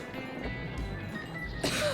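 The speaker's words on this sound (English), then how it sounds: "Damn coughing." A character in the post-apocalyptic game Metro Exodus gives a short, harsh cough and throat clearing, close and fairly loud, ending with a sharper burst.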